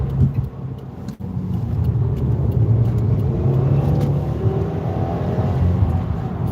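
A white 2020 Subaru WRX with all-wheel drive accelerates under throttle, its engine a steady, loud drone heard from inside the cabin with a brief knock near the start.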